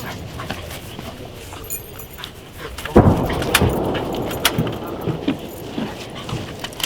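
Dog whining softly in an outdoor scene during an evacuation in wartime Kharkiv region, with a loud disturbance partway through followed by scattered clatter and noise.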